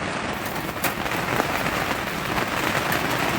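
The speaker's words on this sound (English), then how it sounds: "She's listening to the rain." Steady rain falls on a hard surface, with an even hiss and scattered drop clicks throughout. No voices are heard.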